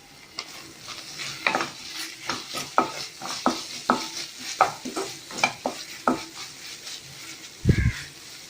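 Tomatoes sautéing in a pan for an egg curry, with a steady run of spoon scrapes and stirring strokes over a light sizzle, close and fairly loud, plus a brief heavier clatter near the end.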